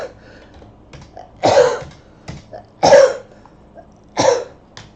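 Three close, distinct coughs spaced about 1.4 seconds apart, with soft throat noises in between, from someone with an itchy throat during a live auction stream.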